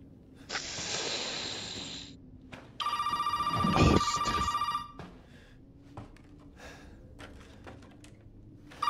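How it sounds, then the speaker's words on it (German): An old-fashioned telephone ringing inside the horror video game Resident Evil 7 Biohazard: two long bright electric bell rings separated by a pause, under low ambient rumble and faint breathing, with scattered clicks afterward and no speech. "Was ist, wenn man das Telefon ignoriert?"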